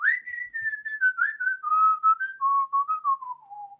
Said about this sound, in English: I wanted a song that had a whistle in it.